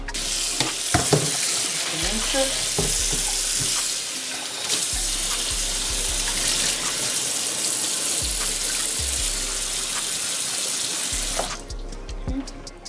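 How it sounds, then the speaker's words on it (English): Water runs steadily from a tap into a pot for about eleven seconds, a broad continuous rush with a few clanks, then stops abruptly. "And then I'm going to add some water."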